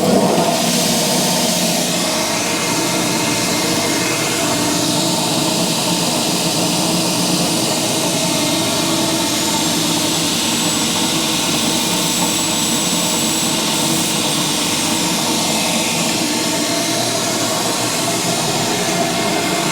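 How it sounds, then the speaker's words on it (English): Bench grinder sharpening farrier knives: a loud, unbroken roaring hum that holds steady for about twenty seconds, close by and with no voice over it. "Ignore the rudimentary way of using my grinder."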